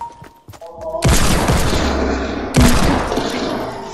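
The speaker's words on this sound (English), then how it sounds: "That was a good grenade, bro." Loud video game grenade explosions: a broadband boom hits at about one second and rolls into a long crackling roar, then a second blast strikes near 2.6 seconds amid gunfire, with brief speech-like sounds before.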